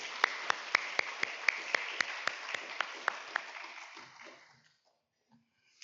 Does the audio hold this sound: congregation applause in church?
yes